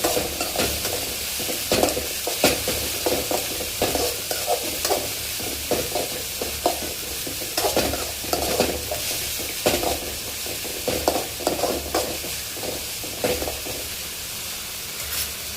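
Noodles frying in a pan with chilli sauce and soy sauce, stirred continuously: a steady sizzle runs underneath irregular scraping and clattering strokes of the spatula, close by.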